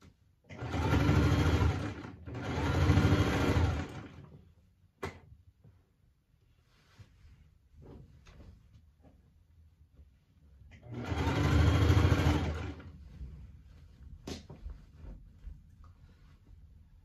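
Sewing machine stitching a waistband onto trousers made of an unusual fabric, with two close bursts of loud whirring, a long pause of small handling clicks, then another run of stitching and light rustling.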